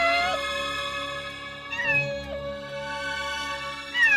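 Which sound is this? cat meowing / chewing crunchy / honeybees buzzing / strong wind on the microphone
cat meowing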